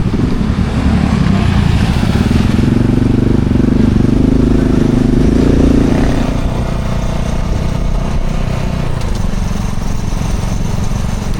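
A dirty, smoking vehicle engine running continuously while driving a short trip around Bangkok streets, loud steady drone throughout with no pauses.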